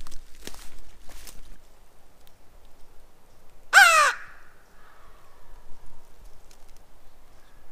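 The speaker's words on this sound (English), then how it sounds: "That's a different bird, ain't it?" A single loud, harsh crow-like caw rings out partway through, out in open West Virginia woods near a pine tree during an opening-day hunt, with faint rustling and footsteps before it and quiet after.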